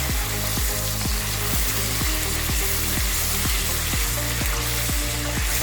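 Ginger and garlic, a teaspoon of each, frying in oil in a karahi for chicken shinwari, giving a steady, close, loud sizzle with regular rhythmic scraping or stirring strokes throughout.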